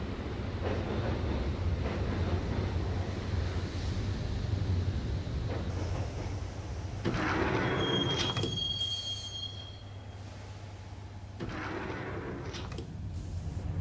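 A subway train ride in the video game Max Payne: a steady rumble of wheels on rails, with sharp metallic wheel squeals rising partway through, loud and continuous with no speech.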